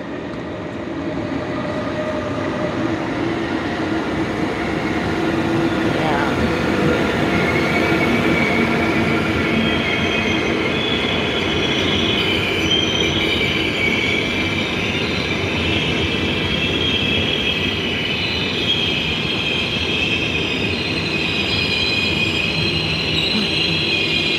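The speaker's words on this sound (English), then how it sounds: "oh you can see this train coming but it's coming from the other side" A pretty old Dutch train on the Rotterdam to The Hague line pulls into the station, its wheels squealing steadily over a loud, continuous rumble of rolling railcars, close by and without speech.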